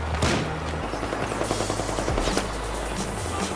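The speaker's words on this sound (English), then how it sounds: "Oh, I got shot again." Battlefield 4 gunfire: rapid automatic weapon bursts with booming shots over a constant low rumble of battle, loud and close, with no talk.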